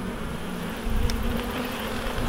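Honey bees buzz in a steady, dense drone from an opened hive, swelling slightly louder midway, with no voices.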